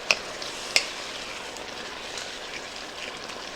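Spoon stirring canned Rotel tomatoes and paste in a pot of vegetarian bean chili, a soft wet mixing sound with a couple of sharp clinks against the pot early on.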